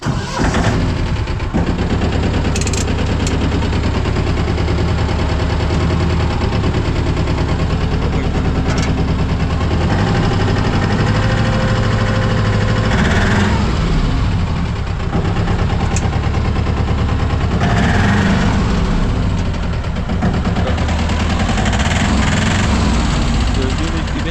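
A domestic off-road vehicle's engine runs loudly and close with a steady rough drone as the gearbox is put in neutral and four-wheel drive is engaged, and people talk over it.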